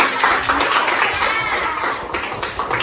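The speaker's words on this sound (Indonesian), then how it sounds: "Ya, berikan tepuk tangan." A classroom of students claps together after a group presentation in a lesson, a dense, lively burst of hand clapping that stays close and fairly loud throughout.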